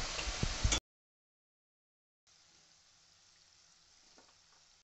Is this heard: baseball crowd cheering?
no